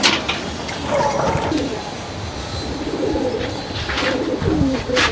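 Khaki pigeons coo close by in soft, repeated throaty phrases that continue throughout, with light rustling and background noise underneath.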